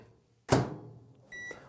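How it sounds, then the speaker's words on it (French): A microwave oven melting chocolate (Nyangbo) with oil gives a sharp clunk, followed by a quiet hum and then a short electronic beep near the end. "On fond le tout au micro-ondes."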